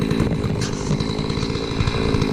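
Holzfforma G660 chainsaw, a Farmertech saw, running loud and close with a steady, rough engine drone and slight fluctuations in pitch throughout.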